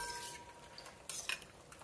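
Lebanese awamat fried dough balls are stirred through syrup with a few light scraping and clinking strokes, close and fairly quiet, with no speech.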